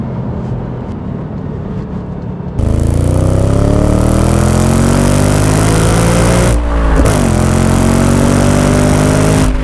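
An Audi RS4 engine starts from a quieter idle, then revs hard and climbs steadily through the rev range toward 8,000 RPM, dips briefly as the throttle lifts, then rises again, loud and close.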